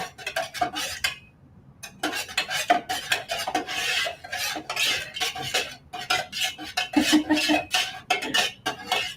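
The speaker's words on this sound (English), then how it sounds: "Just keep stirring." Candle wax for candy corn candles being stirred as it melts in a pot, with a metal utensil scraping and clinking against the pot in irregular close strokes and no talk.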